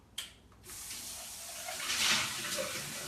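A glass is rinsed under running tap water in a kitchen, a soft hiss of flowing water that starts after a brief knock and swells toward the middle, close and fairly quiet.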